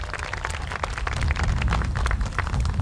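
Audience applause at a kindergarten and 6th grade school promotional ceremony, greeting a new board member: a steady wash of many hands clapping together, building slightly louder after the first second and holding until the end, with no talk.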